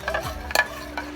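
Pork being stirred with oyster sauce in a pan makes soft scraping and clicking utensil sounds, a few distinct knocks spaced apart over a quiet, faintly sizzling background.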